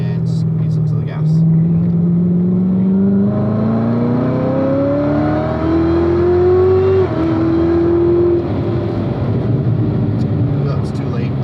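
A car on a racing track accelerates after braking, its engine pitch climbing steadily through the gears, loud and close, with an instructor's voice talking over it.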